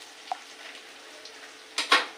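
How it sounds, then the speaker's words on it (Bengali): Onions fry in a pan, a faint sizzle with a few soft stirring scrapes and two louder clatters near the end, no talking. "এবার দেখুন পেঁয়াজগুলো ভাজাভাজি হয়ে গেছে"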